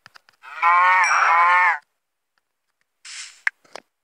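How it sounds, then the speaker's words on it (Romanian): A Minecraft Pocket Edition cow gives one long, loud synthetic moo near the start, followed after a pause by a shorter second moo and a couple of small clicks from the game. "Ia uite, o intra vaca în apă."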